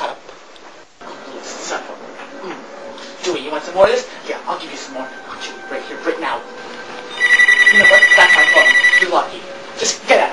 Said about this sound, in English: You know what? That's my phone.